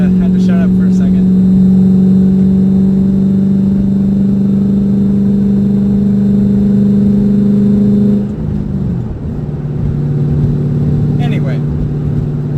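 A 2007 Ford Mustang GT V8 runs steadily with a deep, loud droning hum from inside the car, the pitch shifting briefly partway through before settling into a lower, steady drone.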